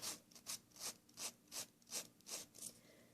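A nail file rubs straight down across a fingernail in eight or nine steady rasping strokes, close and fairly soft, with no voices.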